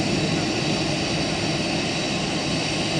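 Emirates Boeing 777ER airliner at London Stansted Airport, a steady loud broadband engine roar holding evenly throughout, close and continuous with no break.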